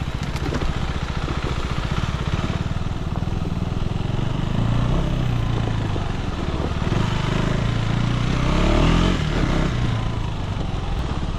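A KTM 390 Enduro R motorcycle engine drones steadily and loudly throughout an off-road ride on technical terrain, rising and falling slightly with throttle, accompanied by wind and riding noise and no speech.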